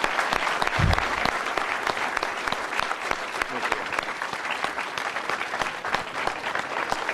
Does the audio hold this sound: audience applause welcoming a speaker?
yes